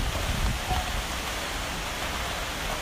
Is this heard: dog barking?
no